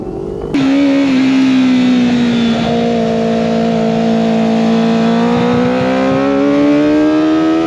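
Kawasaki ZX25R motorcycle engine riding on a road, a steady close engine drone starting abruptly and holding a constant pitch with slight rises, loud and continuous with no talk.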